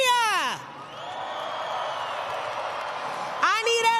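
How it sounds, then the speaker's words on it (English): A Monster Jam arena crowd in Sacramento cheers and whoops for a freestyle motocross team, a sustained roar of many voices with a loud announcer's voice booming over it at the start and end. "I need everybody to keep that applause going"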